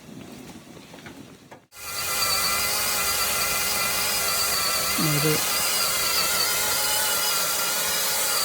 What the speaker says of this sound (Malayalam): ചെയിൻസോ ഉപയോഗിച്ചിട്ടാണ് ചെയ്യുന്നത്. വലിയ കമ്പുകളാണ് മുറിച്ച് ഒഴിവാക്കുന്നത്.